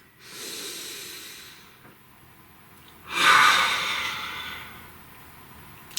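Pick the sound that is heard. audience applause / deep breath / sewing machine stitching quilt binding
deep breath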